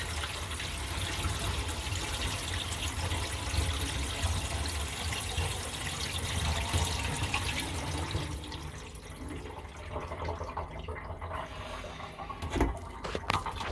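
Water runs steadily into a kitchen sink fitted with a newly replaced drain, a continuous close splashing wash that thins out toward the end, with a few small knocks.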